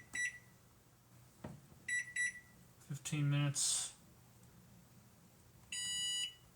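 Electronic oven timer beeping while being set for cooking salmon: short bursts of bright, clipped beeps, then a longer sustained beep at the end, with someone talking in between.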